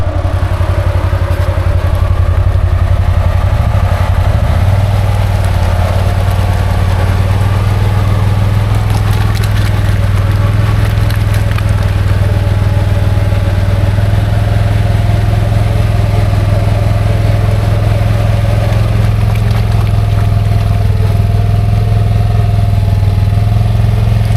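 Can-Am Outlander XMR 850 G3 ATV on 30-inch Aztex XX tires, its engine droning steadily near and loud with a low idling hum and faint clatter throughout, no talk.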